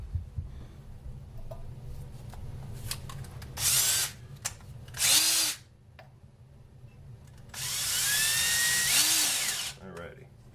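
A power drill spins an Oldsmobile 403 valve against its seat with lapping compound in short bursts, three grinding runs of a few seconds each with pauses between, close and fairly loud, while a person talks in the pauses.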